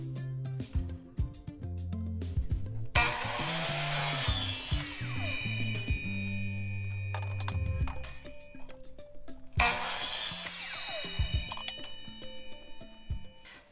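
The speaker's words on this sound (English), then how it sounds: "So the miter saw was used to cut the planks in half." Two miter saw cuts through vinyl plank flooring, each a loud bright whining rip lasting a couple of seconds, with a motor spinning down and quieter handling noises in between.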